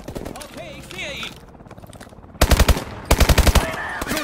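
Gameplay audio from Call of Duty Advanced Warfare carries a German-speaking squad voice, then two loud, rapid bursts of automatic gunfire, each a tight string of sharp shots.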